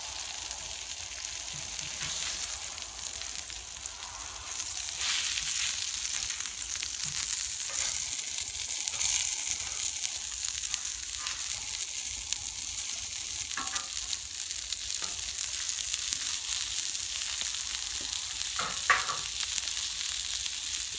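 Parmesan-crusted chicken fries on a Blackstone griddle with a steady, dense sizzle that continues for the whole stretch, broken by a few faint scrapes and taps and with no talking.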